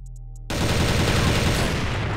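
M4A1 rifle fire in the game CrossFire, a continuous rapid automatic burst that starts abruptly after a brief pause and stays loud and dense to the end.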